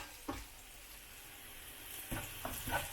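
Shallots and green chilies sautéing in a pan, a soft steady sizzle broken by a few quick spatula scrapes and taps, near but fairly quiet.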